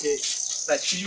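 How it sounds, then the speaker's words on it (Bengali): Crickets chirp with a shrill, high, continuous trill in a spring village at Borolia, Tongibari, Munshiganj, heard over a brief moment of lower background sound. "এখন বসন্তকাল ঝিঝি পোকা ডাকছে হয়তো আপনারা ডাক শুনতে পাচ্ছেন"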